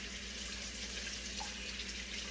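Water runs steadily from a kitchen tap as a fork is rinsed, a quiet, even stream that continues unbroken throughout with no speech.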